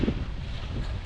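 Steady wind buffets the microphone on a rainy day in the city streets of 's-Hertogenbosch, a continuous low rumble that fills the short moment without any voices.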